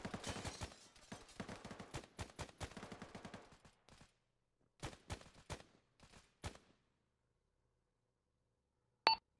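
Distant rifle and automatic gunfire in the game ARMA 3 crackles in rapid bursts, dense at first, then thinning to scattered shots, a long quiet gap and one last sharp report.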